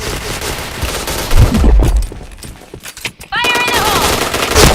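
Video game gunfire rattles out in rapid automatic bursts, loud and close, with short gaps between volleys and a brief electronic chime near the end.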